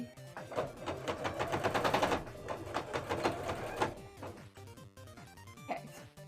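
A sewing machine stitching pieces of a Neeko (League of Legends) cosplay costume, running in a fast, rattling burst of needle strokes for several seconds before slowing to a few separate clunks, close up.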